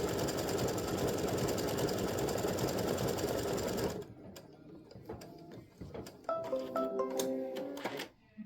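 A sewing machine stitches fabric with a fast, steady mechanical whir for about four seconds, then stops; quieter clicks, knocks and handling noises of the machine follow.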